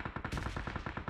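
Rapid bursts of gunfire-like blasts from bombs in the PUBG battle game, about ten sharp reports in a quick, loud, dense rhythm.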